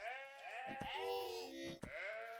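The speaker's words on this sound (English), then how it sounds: "What is this that I have here? A sheep. A normal sheep." A sheep in the Vintage Story video game bleats twice in drawn-out, wavering calls, clear and fairly close, with a faint softer bleat in between and no talking over it.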